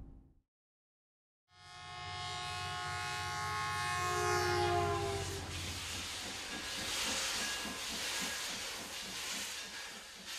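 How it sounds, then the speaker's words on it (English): A steam locomotive in Utah's Heber Valley hisses loudly after a brief silence, with a long steady rush of escaping steam, whistle-like tones fading into rhythmic chuffing and steel wheels rolling on steel rails, close and dominant throughout. "Clouds of steam and steel wheels on steel rails can only mean one thing. The train's coming."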